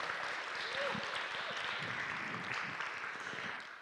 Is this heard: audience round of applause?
yes